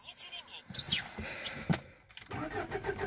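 A Lada Vesta engine starts with a short cranking whir that catches into a running idle, heard up close, with someone talking briefly over it.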